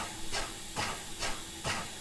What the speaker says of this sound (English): It's a cute little narrow gauge German steam engine.